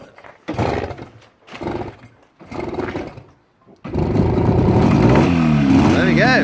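A 1962 Greeves 25DC Sports Twin 250cc motorcycle engine turns over with a few uneven bursts, then catches and runs loud and steady with rising revs, close by, with voices in the early part.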